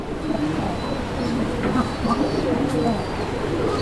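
A male pigeon coos repeatedly among a loft of fancy pigeons, the low throaty calls steady and close against a busy background with faint talk nearby.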